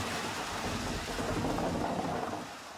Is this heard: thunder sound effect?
yes